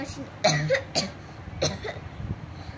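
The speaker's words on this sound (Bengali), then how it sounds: "এ বাবা তুমি তো কাশছিস" A child coughs several times in short, separate bursts spread over a few seconds, close by in a quiet room.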